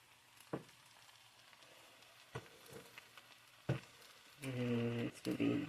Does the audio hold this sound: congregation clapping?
no